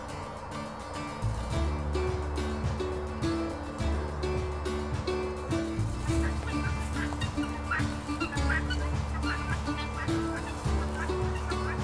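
A flock of birds honks and calls continuously at close range, with overlapping cries and a steady background hum.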